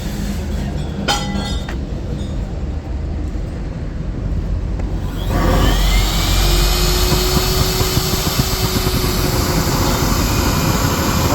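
A waste oil burner roars steadily and then surges louder and fuller as its fuel flow is increased, a continuous close rushing flame noise with no talk.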